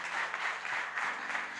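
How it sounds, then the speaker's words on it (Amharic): An audience claps in a steady, brief burst of applause from a room full of people, heard at moderate distance. "አጨብጭቡ።"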